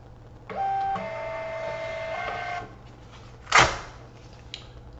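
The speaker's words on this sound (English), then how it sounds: "now if I want to print a label, I can print it without having to change the settings" A label printer feeds and prints a label for about two seconds with a whirring mechanical run, then a sharp clack as the label is cut or torn off, in a quiet room.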